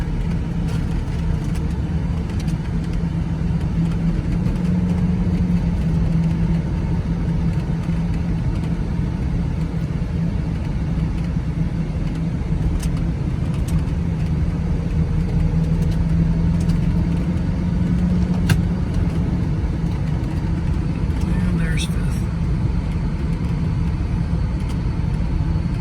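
A 2002 Ford Thunderbird engine hums steadily from inside the cabin as the car accelerates into passing gear, a constant low drone with road noise and no clear rise in pitch.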